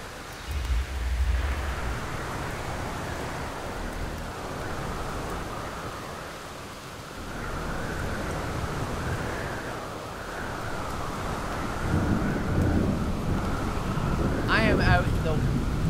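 Rain sweeps over an open area in the survival exploration video game The Solus Project, a steady windy hiss with heavier gusts and low rumbles, ending in a brief sharp burst.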